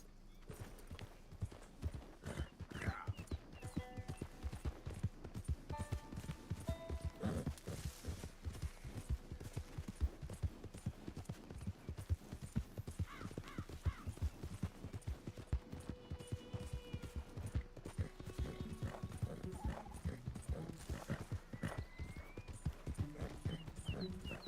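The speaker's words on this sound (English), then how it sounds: "Horsey." Horse hooves clip-clop steadily in Red Dead Redemption 2, a rapid rhythmic patter of hoofbeats under game ambience, with occasional tonal sounds and a faint whinny.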